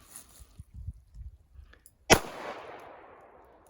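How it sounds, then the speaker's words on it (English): A single sharp, loud revolver shot firing rat shot at a target about 21 feet away, ringing out with a decaying echo after a few faint handling sounds. "We're just going to see what kind of spread we got going on with this rat shot"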